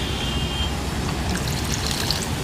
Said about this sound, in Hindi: डालें पानी इसमें और दैट्स इट।